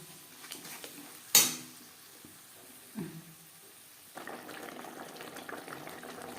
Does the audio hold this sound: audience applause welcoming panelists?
no